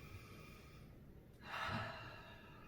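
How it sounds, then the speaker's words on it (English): A single slow, deep breath drawn in softly and close, rising briefly then fading, over quiet room tone during guided relaxation tapping. "take a deep breath"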